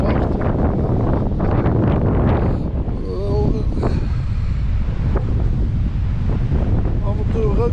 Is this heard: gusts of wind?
yes